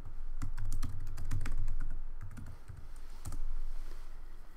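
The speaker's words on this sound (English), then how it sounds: "type in your Emmanuel username and password" Fast bursts of keystrokes on a computer keyboard as a username and password are entered, clear and close, running in quick clusters with short pauses and no voices.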